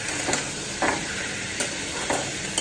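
Chicken fries in a pan with onions, giving a steady, close sizzle broken by a few soft stirring scrapes at roughly even intervals.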